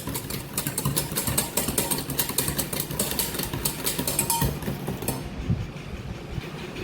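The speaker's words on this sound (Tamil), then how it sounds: "முட்டையை வந்து நல்லா பீட் பண்ணுங்கள்" Eggs being beaten hard for pancake batter, whipped until frothy, making a steady, fast, rhythmic whisking rush that continues unbroken at close range with no voices.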